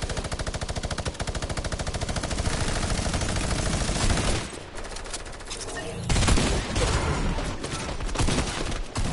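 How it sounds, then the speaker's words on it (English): A minigun in a multiplayer video game fires in long, dense, rapid bursts with a brief pause near the middle, loud and continuous with a sharp mechanical rattle. "Then you're over here spamming with a minigun"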